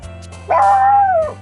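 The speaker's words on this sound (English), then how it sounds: "Stop barking, dog." A dog in the game Doki Doki Literature Club gives a single drawn-out, whining yelp or bark, close and loud over a steady low background hum.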